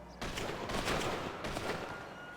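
A rifle volley fired as a funeral salute, with several faint, distant cracks of simultaneous shots spaced a little apart, heard quietly over background noise.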